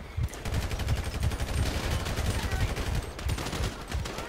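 Sustained rapid automatic gunfire in the GTA 5 video game, a dense, continuous rattle of shots with loud low-end thumps throughout, no pauses.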